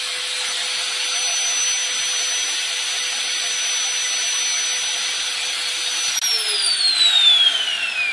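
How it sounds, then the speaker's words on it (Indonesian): An electric angle grinder runs on a household mains supply with a steady high whine, close and loud and held for several seconds, shifting pitch near the end as it changes speed. "tambah gerinda"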